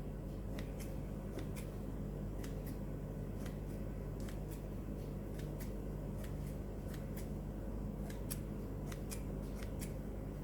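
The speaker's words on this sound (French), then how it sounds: "on met un petit coup de ciseau sur notre brioche" Scissors snipping the top of brioche dough, a series of quick sharp clicks repeating at an irregular pace over a low steady room hum, faint and close.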